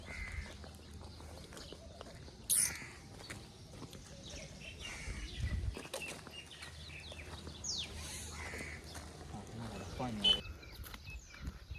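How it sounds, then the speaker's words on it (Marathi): Birds call intermittently in an outdoor setting, a few louder caws standing out over steady background noise and rustling. "मित्रांनो पक्ष्यांचा आवाज कसा काय"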